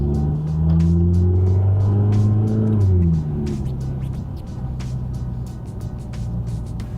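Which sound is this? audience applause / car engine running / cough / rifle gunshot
car engine running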